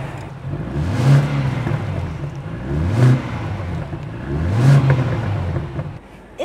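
A warmed-up BMW XM Label hybrid SUV revs its engine three times, each surge rising and falling loudly over a steady idle, with no talking.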